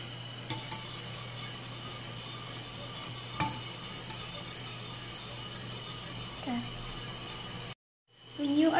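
Liquid ingredients for Oreo ice cream being stirred in a container, a steady close swishing with a few sharp utensil clinks, ending abruptly before a brief burst of other sound.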